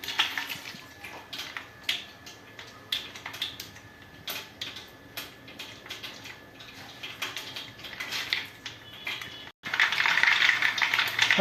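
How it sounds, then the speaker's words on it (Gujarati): Mustard seeds pop in hot oil with whole dried chillies and bay leaf: irregular sharp crackles and ticks over a low sizzle, swelling to a dense, loud hiss near the end. "હવે રાઈ ફૂટી ગઈ છે"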